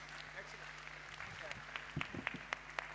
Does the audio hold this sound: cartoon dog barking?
no